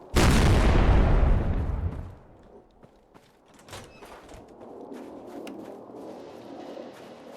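A grenade goes off in Fallout 4 with the FROST survival mod: one loud, close blast that roars for about two seconds and then dies away, leaving faint rustles and small knocks.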